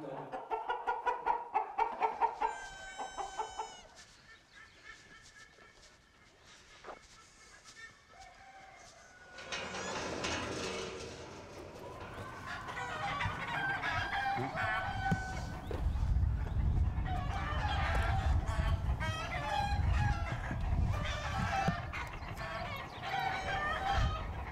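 Chickens and roosters in a field of multicoloured white and black fowl, crowing and clucking repeatedly, several birds near and far, with a denser chorus of calls building over a steady outdoor background.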